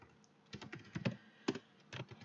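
A computer keyboard is typed on in short irregular bursts of clacking keystrokes, close and fairly quiet, with brief pauses between groups of keys.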